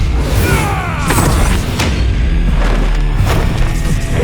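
In a Devil May Cry anime episode, an explosion blasts out as one loud, dense boom with crashing debris and rumbling that fills several seconds, close and overwhelming.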